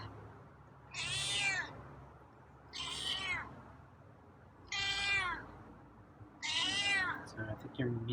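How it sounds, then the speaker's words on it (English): A feral cat meows four times in a slow, evenly spaced series, each call drawn out and fairly close, with quiet pauses between. "So I think your meows are at medium level today."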